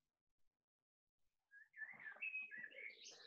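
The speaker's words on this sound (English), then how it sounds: "Oh, and that beautiful bird singing there." A bird sings outdoors in faint whistled phrases that start after a near-silent opening and continue in overlapping chirps to the end.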